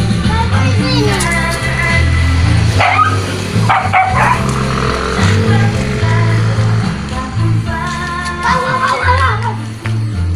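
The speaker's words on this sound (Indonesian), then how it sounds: "Anjingnya lagi berantem" Dogs fight in a narrow residential lane in Manado, with repeated loud barks and yelps close by. People talk over much of it, and a voice is heard.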